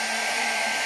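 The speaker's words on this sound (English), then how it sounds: "And then you put the hairdryer on," A household hair dryer runs at full power, a steady loud whooshing roar that holds unchanged throughout with no voices.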